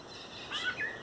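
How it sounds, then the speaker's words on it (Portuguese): A faint, brief chirp from a rufous-bellied thrush (sabiá) in a backyard, a couple of quick high notes over quiet background hiss. "Ouvindo os pássaros."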